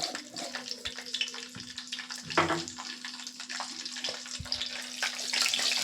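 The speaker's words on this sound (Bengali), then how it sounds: "কালো জিরে দিয়ে ভালো করে মাছটাকে, এই তেলটাকে ফুটিয়ে গরম করে নেব" Nigella seeds sizzling in hot oil for a fish curry, a steady close crackling hiss with a constant hum underneath and a few light clatters.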